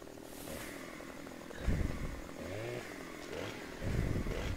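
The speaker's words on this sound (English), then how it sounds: "I'll attempt to pull up my chainsaw and cut off this limb" Virtual chainsaw in Farming Simulator 15 cutting a tree limb, a steady buzzing engine drone with brief surges as the cut bites, fairly loud and continuous, with no talk over it.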